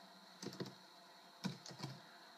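Typing on a computer keyboard, a few soft, close key clicks in two small bursts against a quiet, humming room background, with no voice.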